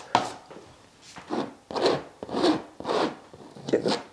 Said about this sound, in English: Trowel it on.